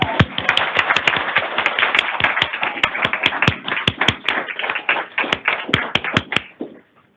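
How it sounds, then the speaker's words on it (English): Applause for new employees at an annual employee recognition ceremony, with close, crisp individual claps in a brisk uneven patter for about six seconds before stopping abruptly. "We are applauding you."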